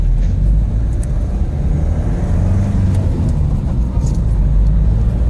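A 2004 Renault Trafic van with a power loss accelerates under full throttle, a loud, steady low engine drone building slowly with no clear rise in pitch, heard close with no talking.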